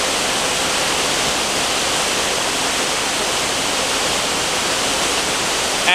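A waterfall in southern Tennessee roars as a loud, steady, broadband rush of falling water, close and unbroken throughout.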